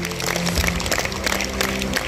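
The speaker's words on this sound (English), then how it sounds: "Ladies and gentlemen, give a big round of applause for her." A short burst of audience applause at an institute's annual victory celebration, a dense, even patter of many hands clapping, fairly loud, with a low hum beneath.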